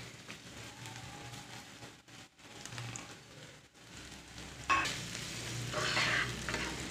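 Sliced onion and green chillies fry in hot oil for a Kerala-style tindora stir-fry, a soft steady sizzle with a few stirring scrapes, growing brighter and louder near the end.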